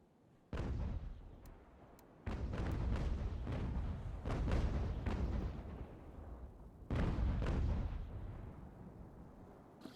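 Cannon fire in the naval battles of the strategy game Ultimate General American Revolution, three heavy booming volleys, each a sudden loud blast followed by a long rumbling decay.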